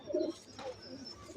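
Soft, low pigeon cooing close by, a short burbling coo followed by a quieter second one, with faint background noise.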